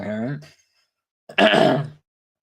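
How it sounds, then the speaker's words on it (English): Two bursts of throaty vocal noise, a short rough one then a louder harsh cough-like burst after a pause, close to the mic. "excuse me, I have a cough."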